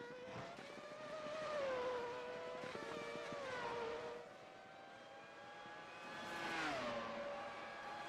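Race cars on a pace lap at the Detroit Grand Prix in a racing video game, their engines droning steadily with rising and falling pitch as cars pass close by, with no voices.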